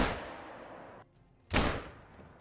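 Gunshot fired at a bear during a hunt: a loud, sharp outdoor blast with a broad burst and short decay, following a brief lull in steady background rumble.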